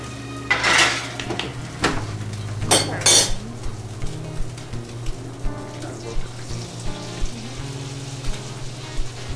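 A snook fillet fries in butter in a pan, giving a soft sizzle under repeated metallic clatter of a utensil scraping and tapping the cookware. Someone talks briefly nearby.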